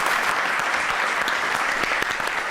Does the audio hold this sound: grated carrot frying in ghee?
no